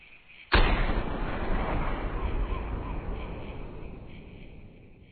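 A single loud rifle shot from a .308 Wolfsbane in theHunter hunting game, a sharp blast at the start that rolls into a long, fading echoing tail.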